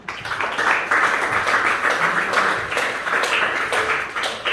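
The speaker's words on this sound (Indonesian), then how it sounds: "Tepuk tangan untuk semuanya." A ninth-grade science class at SMPN 1 Bojong claps for everyone after a static electricity lesson, a loud, dense burst of applause lasting several seconds with a few sharper slaps.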